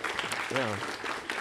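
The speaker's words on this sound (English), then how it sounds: "Can we get a round of applause?" Brief applause from an audience at a student video game demo session, greeting a volunteer play tester; light clapping mixed with a short spoken reply and background chatter.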